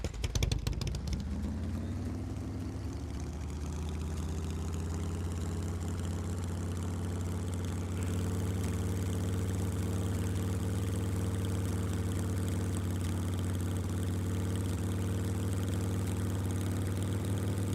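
A motorcycle engine idles steadily in the survival game SCUM, a constant low rumble holding close and loud with no talking over it.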